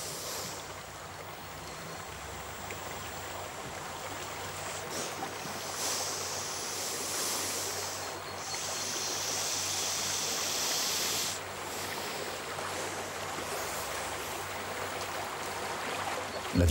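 A strong river current rushes in a natural setting, a broad, continuous roar of flowing water that swells slightly in places, fairly close and steady with no voices.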